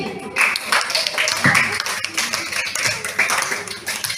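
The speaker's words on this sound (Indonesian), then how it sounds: "Tepuk tangan dulu untuk Sri Antensi Windy." Classmates clap for a student in a classroom, a dense, fairly loud patter of hands close by, with voices mixed in.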